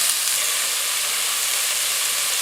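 Beef sears in hot oil in a pan on a stovetop, a steady, loud, close hiss of sizzling with no pauses and no talk.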